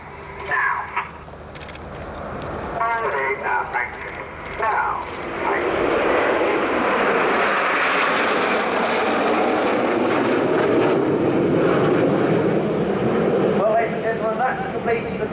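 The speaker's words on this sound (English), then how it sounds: "Out to our right you can see the team have formed a diamond with 7 aircraft." Seven Red Arrows Hawk jets flying a short diamond formation at an air display, a broad sustained engine roar building and holding steady throughout, with commentary over it.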